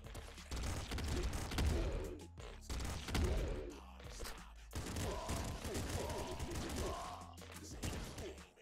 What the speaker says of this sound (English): this thing's like a three-round burst, which I wasn't expecting